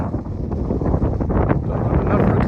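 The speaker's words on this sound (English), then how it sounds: "The wind's coming from behind me from this direction at the moment." Wind buffets the microphone on a coastal path near Kynance Cove, a loud, continuous low rumble with gusty fluctuations and no clear voices.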